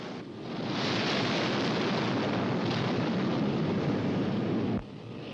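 A jet aircraft launches from an aircraft carrier, a loud continuous roar that swells within a second and holds, then drops off abruptly near the end, with wind buffeting the microphone.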